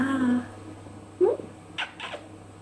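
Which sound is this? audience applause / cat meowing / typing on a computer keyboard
cat meowing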